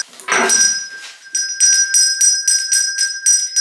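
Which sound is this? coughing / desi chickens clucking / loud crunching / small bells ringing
small bells ringing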